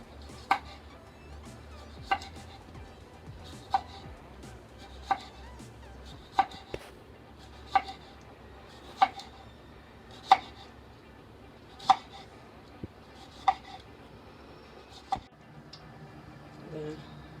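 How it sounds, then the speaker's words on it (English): A knife slices cucumber thin on a board, about a dozen crisp, evenly spaced cuts in a slow steady rhythm, close and fairly quiet with no talking. "Now our cucumber, we'll slice them nice and thin."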